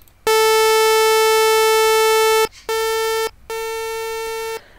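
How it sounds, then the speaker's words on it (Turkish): Synthesized sawtooth chirp tone made in Audacity, ending at 450 Hz with logarithmic sweep; a loud buzzy harmonic-rich tone in three bursts, long then two shorter, separated by brief gaps, with no talking. "Yeniden cıvıldama diyelim ama mesela bu sefer testere dişi olsun"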